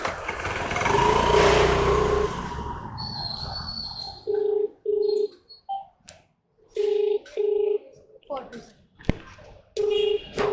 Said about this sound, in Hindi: ठीक है मैं कॉल करता हूँ।